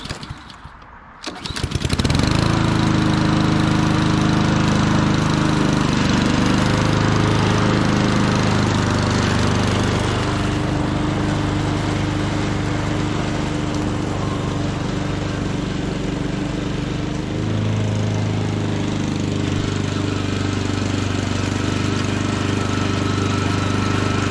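A self-propelled lawn mower engine that doesn't catch properly at moments, starting with a rough crank and then running loud and close for a long stretch with an uneven, wavering drone.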